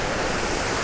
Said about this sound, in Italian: splendida cascata in questo posto magnifico